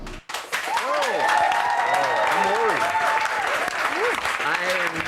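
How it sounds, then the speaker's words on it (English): Studio audience applause at a talk-show interview, a dense sustained wash of clapping that starts abruptly after a brief pause and holds steady and loud, with voices and chatter running through it. "I want to thank the crowd for that cued mercy applause"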